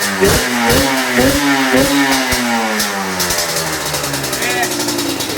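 Yamaha Banshee 350 ATV doing a wheelie, its two-stroke engine revving hard in repeated sharp bursts and then holding a long high whine. The sound is close and loud, with voices talking over it.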